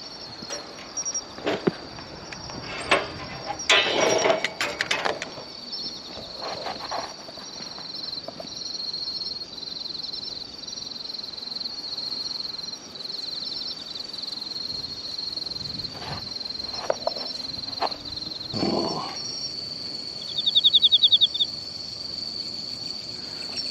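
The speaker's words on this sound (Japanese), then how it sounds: "スズムシが鳴いてますね。" Bell crickets (suzumushi) trill by a roadside at night, a steady high ringing chirp throughout, with occasional footsteps and scuffing nearby and a brief louder burst near the end.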